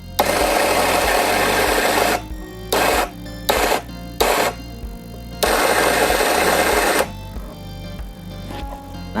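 A Kova N600 coffee grinder set to its finest grind runs in loud bursts of buzzing motor whine: a long run, several short pulses, then another long run, with quieter pauses between.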